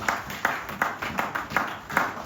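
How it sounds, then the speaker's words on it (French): A church congregation claps in a steady rhythm during a Sunday service, about six regular claps spread across the stretch, moderately loud and fairly close, with no talking over them. "Acclamons pour ton Seigneur Jésus-Christ."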